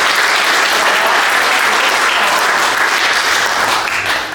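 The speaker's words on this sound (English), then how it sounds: "a round of applause, please" An audience applauding at the opening ceremony of the 2024 Cairns Cup at Cherry Creek Golf Club, loud, dense, continuous clapping that tapers slightly at the very end.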